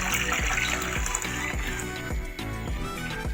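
A cup of water splashes and gurgles into a cooking pot for pumpkins in a Kenyan kitchen, a short, continuous pour close by.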